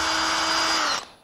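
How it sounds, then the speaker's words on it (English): Power drill boring holes through wood being prepared for large-scale scroll saw cutting, a steady loud whine held for about a second before it winds down and cuts off. "start my drill slowly, and then slowly drill inside"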